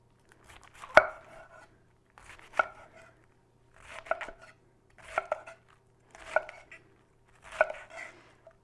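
A knife slices through stacked Napa cabbage leaves on a cutting board for a shrimp and shiitake stir fry, giving six crisp, evenly spaced chopping strokes, each a short crunchy burst, close and alone.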